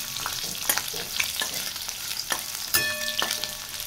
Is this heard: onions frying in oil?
yes